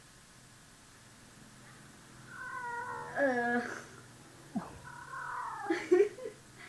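A pet cat meows a few times indoors in a bedroom, drawn-out calls rising and falling at close range, with a brief murmured voice nearby and a soft steady background hiss.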